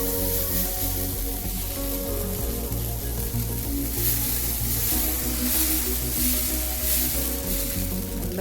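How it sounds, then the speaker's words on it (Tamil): Ragi dosa batter sizzles steadily on a hot pan, a loud, continuous frying hiss with a faint crackle throughout and no talking. "தோசை ஊற்றிக்கலாங்க."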